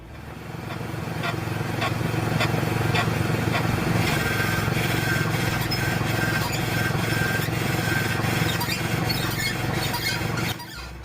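A dry, unlubricated ball joint in a car's suspension gives a steady grinding squeal with a rapid scatter of clicks and creaks, loud and close, running unbroken for about ten seconds.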